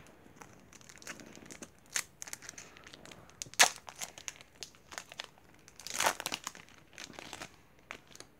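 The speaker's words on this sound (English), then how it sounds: "let's get this pack open" A basketball card pack is torn open up close, with crinkling wrapper foil, a couple of sharp tearing rips and scattered rustles, fairly quiet with no talk.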